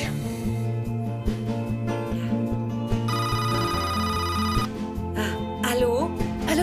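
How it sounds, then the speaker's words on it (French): A telephone rings with repeated electronic tones over a musical film soundtrack, with other sounds mixed in and no one speaking. "J'entends le téléphone sonner."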